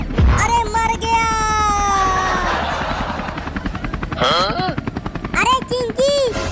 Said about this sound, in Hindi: अरे हेलीकॉप्टर की आवाज।